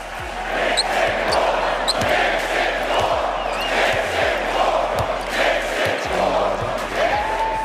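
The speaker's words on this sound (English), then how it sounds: "Take a listen to the final seconds what the MSG crowd was chanting" Madison Square Garden crowd at a Knicks playoff game chants rhythmically in the final seconds, a loud arena roar with repeated pulsing shouts and scattered cheers.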